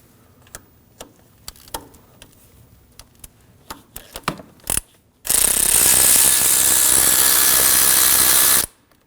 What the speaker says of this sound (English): Now we can remove the bolt holding the cam sensor in.